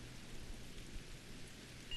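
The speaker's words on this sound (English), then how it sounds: "Wow, rain on Ryza." Steady rain with a faint low rumble of thunder on the planet Ryza near a cave, a soft, even hiss throughout with no voices.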